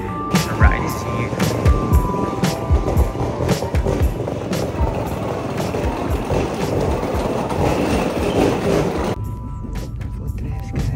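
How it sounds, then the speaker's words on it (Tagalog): Kintetsu Limited Express train ride from Osaka to Nagoya, heard from inside the carriage: a steady, loud rumble with rhythmic clicking over the rails that drops to a quieter hum near the end. "Nakasakay na kami sa Kintetsu Line Train Limited Express."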